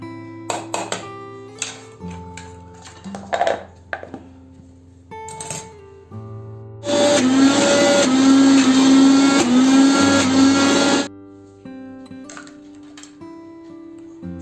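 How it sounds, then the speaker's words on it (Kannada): A mixer grinder blends garlic and peanuts into chutney in one loud, steady whirring burst lasting about four seconds, framed by quieter clinks and handling noises before and after. "ಶೇಂಗಾನು ಕೂಡ ಹಾಕ್ಕೊಂಡು ಅಷ್ಟು ಮಿಕ್ಸಿ ಮಾಡಿಕೊಂಡು"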